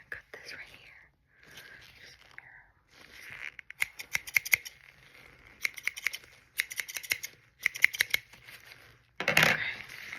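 Scissors snip through a bandage being removed from a wrist, crisp close-up cuts in several quick bursts, with a soft whispering voice between them.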